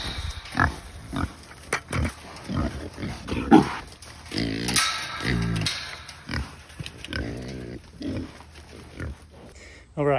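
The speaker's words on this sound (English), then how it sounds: "first we gotta feed the pigs, keep them out of our hair a little bit while we do this" Farm pigs at feeding time grunt and snuffle in bursts while a person talks over them, with scattered clatter and knocks.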